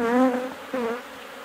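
Honeybees buzz steadily inside an open hive, a close, dense drone with slight swells in pitch that dips briefly midway and fades near the end.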